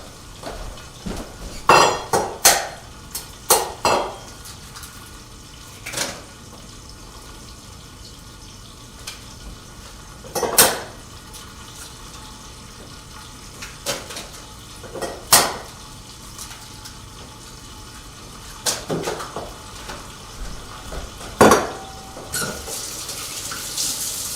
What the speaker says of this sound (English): I'm gonna crack 3 eggs and whip them up.